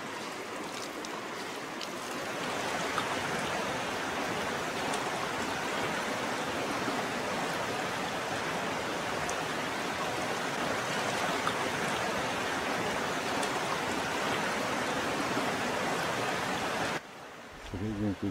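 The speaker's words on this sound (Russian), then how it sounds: "Течение реки Зивы, Зевские скалы." Ziva River current flowing steadily past the Zevsky cliffs in the upper Bikin basin, a broad continuous rushing wash of water that holds constant and fairly close before cutting off abruptly near the end.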